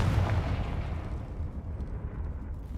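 A Confringo fire spell in Hogwarts Legacy explodes in a heavy, rumbling blast, strongest at the start and then fading into a dull, continuous low roar with no speech.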